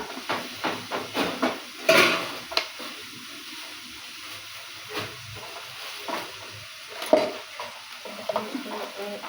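A utensil stirs and scrapes food in a sizzling cooking pan, with a cluster of quick scraping strokes early on, then softer, sparser stirring over a low frying hiss.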